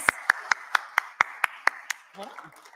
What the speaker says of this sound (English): Can we give Kit a big round of applause?